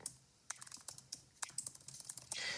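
Fast, light keystrokes on a computer keyboard as a short word is typed, close and clear, in a quiet room with no voices.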